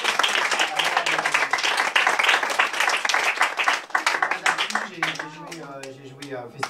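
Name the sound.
audience applause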